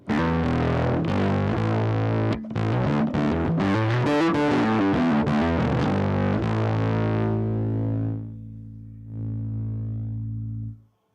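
A heavily distorted electric guitar played through a distortion pedal plays chords and riffs, then lets a thick, buzzing chord ring out and fade before a final sustained note.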